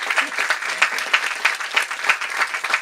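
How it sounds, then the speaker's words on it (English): An audience applauds an author at a book event, a dense, steady burst of many hands clapping close by for a few seconds, with no talk over it. "if we can just give her a round of applause for a beautiful first"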